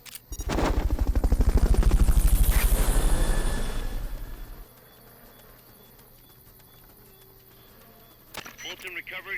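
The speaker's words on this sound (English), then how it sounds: "Fulton recovery helicopter is complete." A Fulton recovery helicopter in the video game Metal Gear Solid: Peace Walker thumps with a loud, rapid rotor chop that swells and then cuts off, leaving quiet game ambience before a short burst of sharp sounds.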